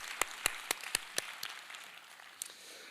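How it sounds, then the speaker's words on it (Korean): A few sparse, separate hand claps in a church congregation, about seven sharp claps spaced unevenly, fairly quiet and thinning out over a faint background. "뜨거운 박수로 이 시간 우리 격려해 드리도록 하겠습니다"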